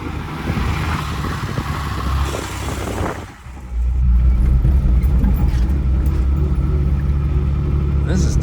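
A 1981 Datsun MQ Patrol with the SD33 diesel and 4-speed gearbox drives along with a loud, steady engine drone. Near 3.3 seconds the engine briefly drops away for a gear change, then pulls again strongly. A voice can be heard faintly.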